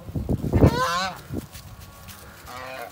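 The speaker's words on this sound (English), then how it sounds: "You ain't gonna make it on the property with my attack geese." A few loud, close goose honks in quick succession, harsh and nasal, followed by a quieter honk after a short pause.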